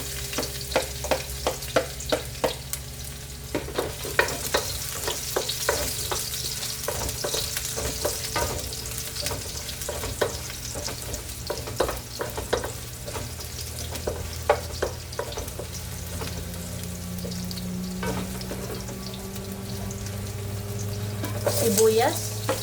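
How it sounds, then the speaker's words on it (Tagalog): Garlic sautés in a pan for chicken tinola, frying with a continuous close sizzle and frequent scraping and clinking of a utensil stirring, steady throughout with no speech. "Gisa natin ang bawang."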